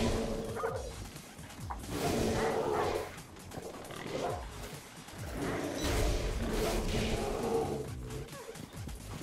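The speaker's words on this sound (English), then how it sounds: "Pig attacks retriever." A pig attacks a retriever dog in the Tokyo Jungle video game, with loud growling, snarling and squealing animal sounds swelling in waves over several seconds.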